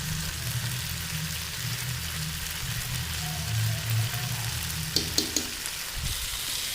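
Vegetables sizzling in a pan while being sautéed for vegetable khichuri, a steady, fairly quiet frying hiss with a few clinks from a spoon near the end and no speech.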